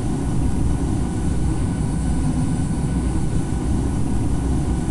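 Boeing 747-800 engines roaring at takeoff power in the Infinite Flight game on a short runway, a loud, steady low rumble and broadband roar that holds constant throughout.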